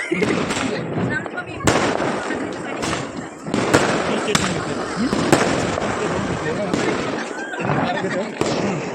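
Diwali firecrackers burst in a scattered string of sharp bangs and pops, some close and loud, others farther off, under ongoing voices and background chatter.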